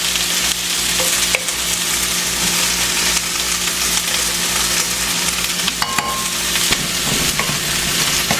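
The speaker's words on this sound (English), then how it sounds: "I have some frozen chopped onion, so I'm going to just put that in my pan." Frozen chopped onion and garlic sizzle and crackle loudly in a hot pan, a steady frying hiss broken by occasional sharper pops and clicks, with no voices.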